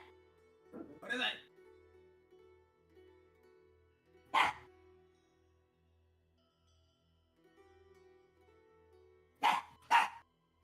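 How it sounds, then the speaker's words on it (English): Dogs bark in four sharp, close bursts: one near the start, another a few seconds later, then a quick double bark at the end, spaced apart over a steady low hum. "Dogs!"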